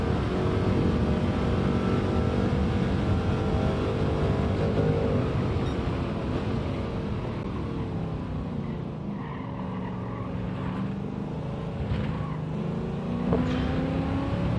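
A race car engine at Monza in Gran Turismo 7 drones loudly and continuously, shifting through gears with rising and falling pitch as it accelerates and eases off, close and steady throughout.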